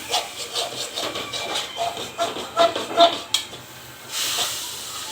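Masala in a pan with a little oil, stirred steadily, giving a soft sizzling hiss with light scraping shuffles, fairly close and moderate in level.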